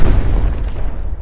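A deep, rumbling explosion on a dinosaur island, booming loud from the start and rolling on through the moment before fading slightly at the end.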